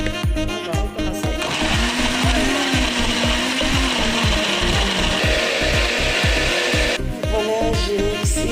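Kitchen blender chopping papaya, orange and lemon pieces for a tropical jam, a loud steady whirring motor with rhythmic thumping of fruit against the jar, starting after a second and stopping near the end.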